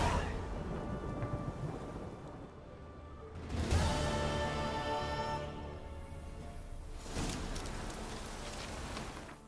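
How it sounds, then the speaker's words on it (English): Storm on Fyke Isle in The Witcher 3, with steady rain pouring throughout and two loud rolling thunder crashes, one near the middle and another later, both swelling over the downpour. "Storm, damn it."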